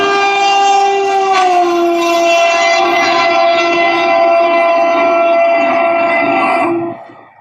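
An animated train sounds a long, loud, steady horn-like tone that holds for several seconds before cutting off and fading.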